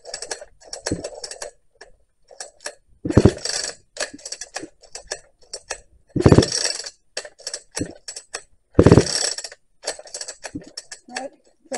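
A Husqvarna 2100 chainsaw is pull-started cold with the decompression and choke removed, giving loud recoil-cord bursts roughly every three seconds amid lighter clicks and rattles, and the engine does not catch.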